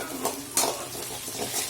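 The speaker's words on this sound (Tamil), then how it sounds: "இப்போ இதையும் நல்லா வதக்கி விட்டுக்கோங்க." Curry leaves sautéing in oil for a squid gravy, stirred with a spoon against the pan: a soft crackling sizzle broken by a couple of bright scraping clinks, close and alone.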